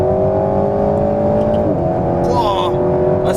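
An Alpine A110 sports car accelerates hard, its engine note holding a steady, loud drone from inside the cabin, with a brief shift in pitch midway and some light higher-pitched noise toward the end.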